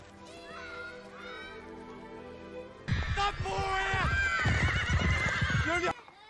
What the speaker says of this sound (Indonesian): ada si Connie yang ngebawa kuda tantrum